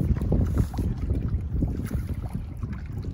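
Gusty wind buffeting the microphone outdoors at a reservoir, a continuous rumbling roar with a hint of water lapping nearby.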